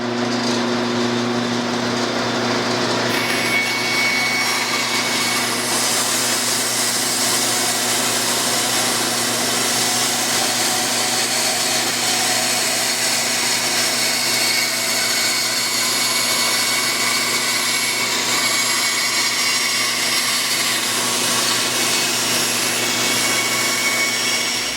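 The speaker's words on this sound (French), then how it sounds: "Denis, j'ai découpé avec ma scie à ruban" Band saw cutting wood along a traced line, a loud continuous mechanical whine and hiss that shifts slightly in pitch as the blade bites, steady and close throughout.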